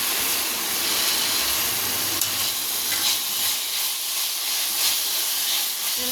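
Biryani ingredients with coriander and mint being sautéed in a pan, giving a steady close sizzle and hiss with occasional stirring crackles and no talking.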